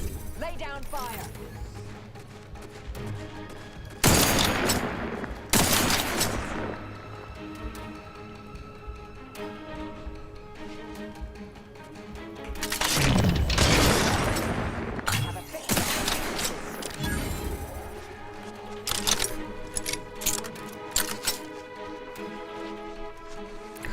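Gunfire in a firefight in The Outer Worlds 2, with several loud bursts of shots and blasts spread across a busy mix of combat noise and background music, voices heard at times.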